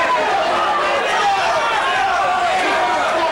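A boxing crowd at the David Gonzales vs. Wilberforce Kiggunda fight roars in a steady, loud, dense wash of cheering and shouting, with commentary over it.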